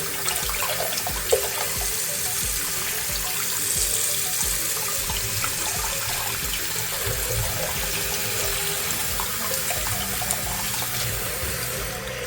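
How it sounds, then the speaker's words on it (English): Water runs and drips steadily onto a Samsung Galaxy Z Fold 5 during a water test, a continuous close splashing patter with no talk. "So you can see that the touch screen is responding to the drops of water."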